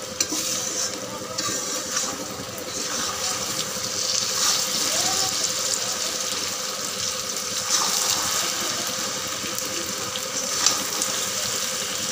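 Water sizzling and bubbling in a hot pan of mango chutney, a continuous hiss with light stirring scrapes, steady and close, with no speech.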